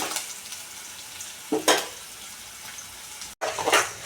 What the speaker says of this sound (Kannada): ಹಸಿಮೆಣ್ಸಿಕಾಯಿ ಯಾವ ಥರ ರೋಸ್ಟ್ ಆಗ್ತೈತೆ ಅಂತ ನೀವು ನೋಡ್ತಾ ಇರ್ಬೋದು